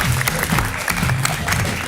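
A crowd claps steadily throughout, dense applause filling the room with a continuous patter of hands.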